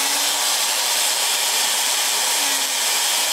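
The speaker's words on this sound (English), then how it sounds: "Are you using a power drill?" A power drill runs during a quick repair in a radio studio, giving a steady, loud whirring that holds for the whole stretch, with no talk over it.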